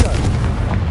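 Confringo spell in the Hogwarts Legacy video game going off as a loud, booming blast, a single dense explosive rumble filling the short moment close up.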